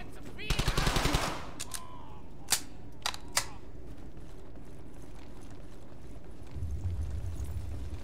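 Machine gun fire in the video game Brothers in Arms: Hell's Highway, a rapid close burst followed by a few single sharp shots, then quieter rumbling, with a voice calling out in between.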